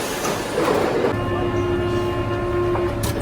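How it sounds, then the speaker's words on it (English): A train rumbles and screeches past nearby at Père Lachaise in Paris, with a steady mechanical hum and rail noise filling the space. "So, oh, there's the train."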